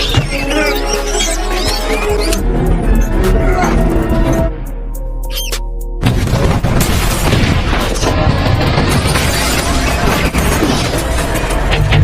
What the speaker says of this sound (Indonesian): Sekarang Wesley berada di markas Fraternity, dimulai dengan meledakkan pabrik dengan bom tikus.